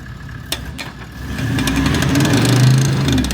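A turbocharged TD42 diesel in a Toyota Land Cruiser pulls off as the clutch is dumped, a low engine note swelling from idle into a steady, loud rumble up close.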